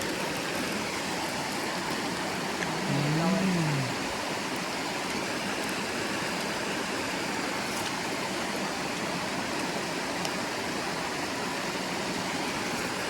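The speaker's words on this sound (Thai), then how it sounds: "ฟังเสียงน้ำไหลเนาะ" Water rushes steadily along a large forest stream, a continuous broadband flow with no pauses; a faint brief tonal sound rises early on.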